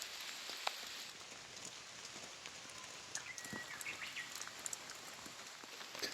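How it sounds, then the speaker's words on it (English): Steady heavy rain patters on surfaces while walking in Japan, a dense hiss of drops with occasional sharper taps, fairly soft and continuous without any talking. "Rain's really coming down now"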